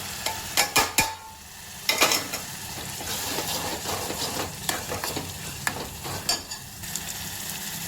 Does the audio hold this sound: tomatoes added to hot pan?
yes